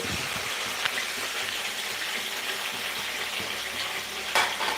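Curry leaves and garlic frying in hot oil for mango pickle, a constant crackling sizzle close by, with a few sharper pops scattered through it.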